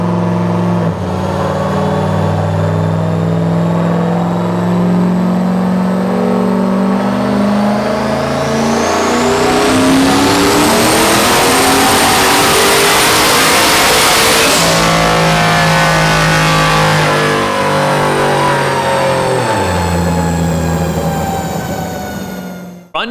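A turbocharged LS1 V8 in a Trans Am roaring through a full dyno pull, climbing steadily in pitch with a rising turbo whine, then dropping back and easing off, loud and close throughout.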